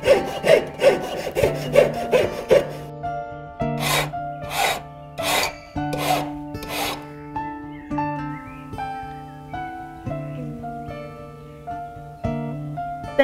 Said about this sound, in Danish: Først file den udvendigt, og så vil jeg måle den af i længden